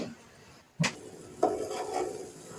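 A spoon stirs masala tea simmering in a pot, giving two or three soft scraping strokes against the metal over a faint background hiss, quiet and close.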